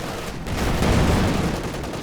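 Sustained light machine gun fire from Veteran Grenadier LMG squads in the Company of Heroes 2 strategy game, dense overlapping bursts with a steady, loud battle-noise level for about two seconds and no talk.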